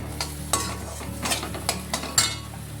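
Ground spices, including pepper, are stirred into a frying pan for potato cutlets, with a few scraping spoon strokes over a soft sizzle, close and moderately loud, with no talk.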